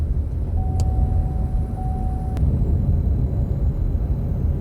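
A 2012 Chevrolet Traverse engine idling steadily after fresh ignition coils and spark plugs, a smooth continuous low rumble with a faint tonal whine, heard close with no talking.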